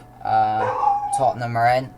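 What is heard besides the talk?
dog barking and howling in the background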